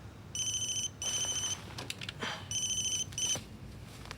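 Telephone ringing indoors in two pairs of bright electronic trills separated by short gaps, close and clear, with faint movement noises in between.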